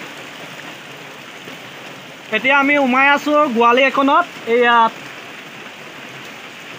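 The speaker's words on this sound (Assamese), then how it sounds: "এই দেখিছে বৰষুণ কেনেকৈ দি আছে এয়া" Steady rain hisses throughout as a broadband wash by a river during fishing, with a person speaking briefly in the middle over it.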